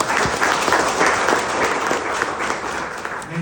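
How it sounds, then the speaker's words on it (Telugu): Loud, dense clapping from an audience at a business opportunity meeting about ADMS e-bikes, sustained and even throughout with a faint murmur of voices beneath. "వీళ్ళైతే ఒకసారి గట్టిగా క్లాప్స్ చేయండి."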